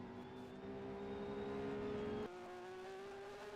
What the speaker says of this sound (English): The cars now make their way through the castle sector.